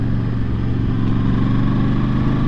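QJ SRV600 V4 four-cylinder custom motorcycle riding in fourth gear, with a close, steady engine hum and throb that holds an even pitch without revving up.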